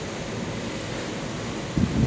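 Big sea waves crash near a seaside house, heard as a steady, loud roar of surf mixed with wind noise that swells with a heavier surge near the end, with no talking.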